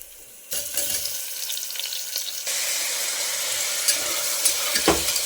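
Tomatoes frying in a pan for tomato bath, a steady bright sizzle that jumps louder midway and continues with small stirring clatters, close and without talk.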